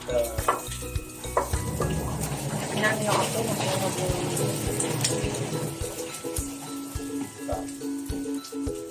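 Garlic, onion and ginger sauté in a pan for kare-kare, a soft continuous sizzle with light stirring and scraping, partly under someone talking throughout.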